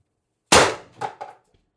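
Single sharp report from an Umarex TR50 air rifle tethered to a regulated air tank at 1,000 psi, a loud close crack followed by two quick fainter metallic echoes or clanks that die away within a second.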